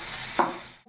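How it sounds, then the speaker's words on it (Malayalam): Mustard seeds popping in hot oil for a thoran, a steady sizzle with one sharper crackling burst midway, close and brief, fading out at the end. "കടുക് പൊട്ടിച്ച് കടുക് പൊട്ടി തുടങ്ങി."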